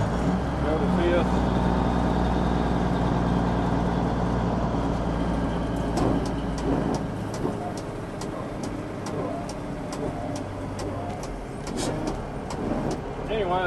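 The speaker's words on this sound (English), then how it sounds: "So here's first gear." Truck with a 15-speed transmission running in the cab, a continuous engine rumble that shifts in pitch as gears change, with a series of sharp clicks later on and someone talking over it.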